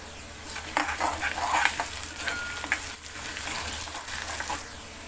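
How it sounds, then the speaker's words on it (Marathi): Onions browning with ginger-garlic paste in a pan for a Vidarbha-style chungolyachi bhaji, with soft sizzling under scraping and stirring of a spoon against metal, plus a few light clinks, close and fairly quiet. "कांदा, कांदा लालसर होईपर्यंत भाजून घेऊया. आलं लसूणची पेस्ट घालूया."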